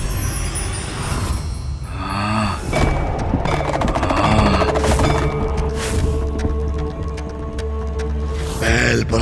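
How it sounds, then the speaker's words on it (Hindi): An explosion effect from a Hindi mythological TV serial roars loud and sustained, with crackling bursts and a deep rumble rolling on throughout. "ये कैसा विस्फोट था?"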